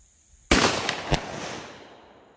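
A single close, loud blast from a Mossberg 500 shotgun fitted with a Carlson's rifled choke, a sharp report followed by a quick secondary crack and a long decaying echo.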